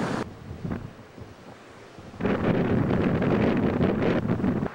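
Wind buffets the microphone over steady ocean surf at a state park beach; fairly quiet at first, then the broadband roar of wind and crashing waves swells loud and stays constant.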